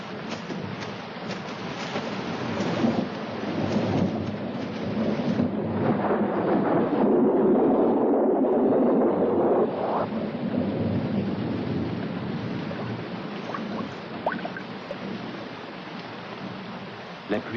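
Steady heavy rain hisses throughout while low thunder rolls and swells in the middle, then fades back under the downpour.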